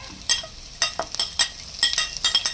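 Tomatoes being stirred into a fish curry masala frying in a pan: a close, steady sizzle broken by repeated sharp scraping strokes of the spoon, with no talk.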